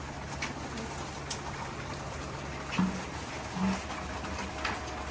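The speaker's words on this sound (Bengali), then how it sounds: "সবাই দোয়া করবেন দর্শক আমার কবুতরগুলোর জন্য কবুতরগুলো যেন সুস্থ থাকে ভালো থাকে" Domestic pigeons coo softly a few times over a steady low background hum, the calls faint and brief, coming from birds nearby in a loft.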